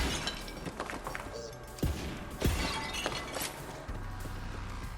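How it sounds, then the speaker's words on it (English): Glass shatters in Borderlands 3 as a stock-style breaking effect: a few sharp crashing bursts over steady game ambience, loud and close. "That's such a classic glass breaking stock footage sound effect."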